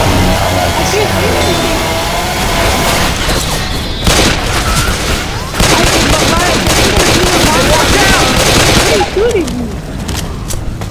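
Heavy weapon fire and booms in a Left 4 Dead 2 firefight, loud and continuous bursts with short breaks, while voices talk over the din.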